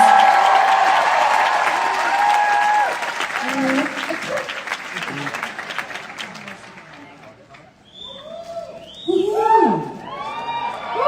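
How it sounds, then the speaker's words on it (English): Loud audience applause with cheering at a live concert show, a dense wash of clapping that thins out near the end as scattered shouts and a voice speaking come through. "please give a massive, massive round of applause to Lauren, Amanda, and Katie."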